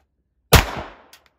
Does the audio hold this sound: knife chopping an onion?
no